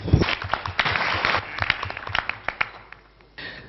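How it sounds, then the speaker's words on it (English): A conference crowd at a coffee symposium gives a short burst of applause, dense clapping that thins into scattered sharp claps and then fades out. "another round of applause for them."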